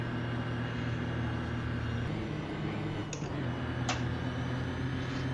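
Van engine at the Nürburgring labouring up a hill in a challenge, a steady loud drone with a couple of sharp clicks midway as the gear drops, no one talking.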